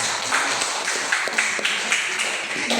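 Applause from a classroom keeps up throughout at a steady, moderately loud level, with a few sharper individual claps standing out.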